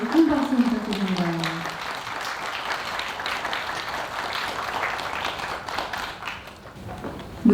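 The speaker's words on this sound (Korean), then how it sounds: "선생님께 큰 박수 부탁드립니다." Audience applause at a Korean memorial ceremony for independence general Choi Un-san, a steady wash of clapping that follows a speaking voice at the start and lasts several seconds before fading slightly.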